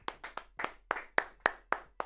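One person claps alone on a live stream, about nine sharp, evenly spaced claps, close and clear with no voices.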